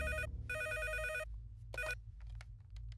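A telephone bell rings in two bursts, then a short third ring cuts in, over a low steady hum.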